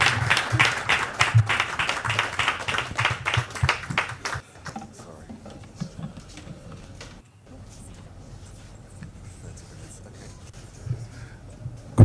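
Conference audience claps in a dense burst for the first few seconds, then thins to scattered, quieter hand claps and room noise at an industrial conference, with a voice heard over the start.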